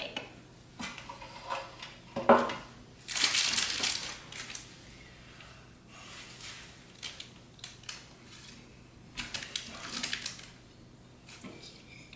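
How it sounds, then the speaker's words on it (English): A knife works through a lemon drizzle cake still sitting in its tin, giving soft, close scraping and crunching cuts with a louder burst of crumbly scraping midway and quieter taps and scrapes afterwards, with no talking. "So now it's finally time to cut the cake."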